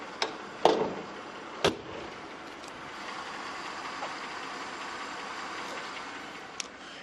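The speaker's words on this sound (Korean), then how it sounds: "이 정도의 엔진 소음 기대하실 수가 있는 차량입니다." A Mercedes-Benz E-Class 350 engine idles with the hood closed, a faint, smooth, steady hum heard from nearby, with a couple of sharp thumps near the start and no talking.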